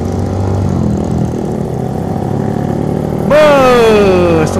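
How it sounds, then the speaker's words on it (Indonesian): A big motorcycle roars past on a night road, rising suddenly out of a steady background engine drone, then its loud whining tone slides downward as it goes by close. "ada moge guys"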